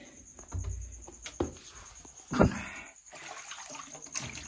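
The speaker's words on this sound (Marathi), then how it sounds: "तर हे बघा हे पाण्याचं टाकं आहे, यातून आता पाणी काढायला लागेल आपल्याला." Water drawn by hand from a rock-cut stone water tank at Chanderi Fort in Maharashtra, with a single splashing slosh midway amid soft scattered knocks and a steady outdoor insect drone.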